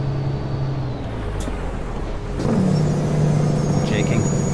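A Kenworth W900 Icon Glider with a CAT 6NZ engine in American Truck Simulator rumbles along, then its engine brake engages partway through with a deeper, louder, sustained drone, with a voice talking over it.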